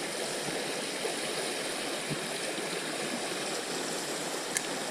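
Steady rushing flow of a murky urban trout creek running high after rain, a continuous even wash of water with no voices.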